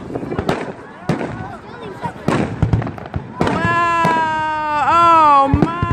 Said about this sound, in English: It's like those fireworks you see on TV.